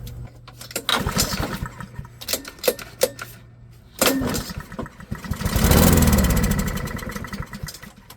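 An old lawnmower engine, a scrapyard-bound mower being revived, sputters through intermittent bursts, then catches and runs loudly for a few seconds before winding down.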